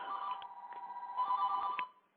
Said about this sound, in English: someone's calling line, but the phone number doesn't come through